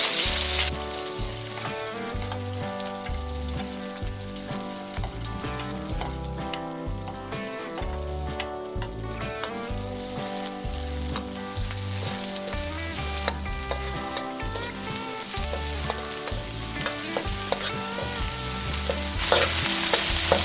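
Onions sauté with browned garlic in a pan for a pineapple beef dish, giving a loud, continuous close sizzle with stirring scrapes running throughout and no voices.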